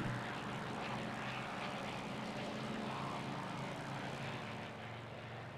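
Spitfire propeller aircraft engine in Flight Simulator X, a steady, full droning roar with a low rumble, held at constant loudness throughout and easing slightly near the end.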